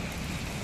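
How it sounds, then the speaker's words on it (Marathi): Heavy monsoon rain pours down in Nalasopara, a dense, steady hiss of downpour with no break across the short stretch. "मुसळधार पाऊस कोसळलेला आहे"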